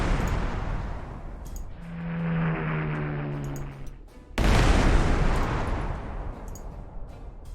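Bombing in the World War II strategy game Panzer Corps 2: a droning aircraft engine hum rises, then a loud, sudden explosive blast erupts into a sustained rumbling roar.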